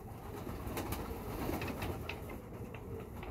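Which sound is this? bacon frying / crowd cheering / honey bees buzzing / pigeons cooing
pigeons cooing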